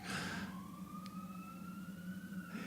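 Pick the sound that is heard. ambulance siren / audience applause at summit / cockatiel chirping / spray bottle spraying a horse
ambulance siren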